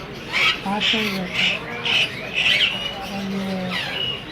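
Olive lory parrots at a crowded bird market give a rapid series of shrill squawks, about eight harsh bursts in quick succession, close and loud over a faint background murmur.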